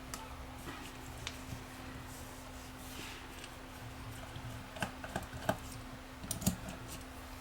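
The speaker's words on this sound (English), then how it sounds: "let's take out the screws for the hell of it" Small screws being worked loose from a hard drive casing during a teardown, heard as quiet scattered clicks and ticks with a few sharper taps near the end over faint hum.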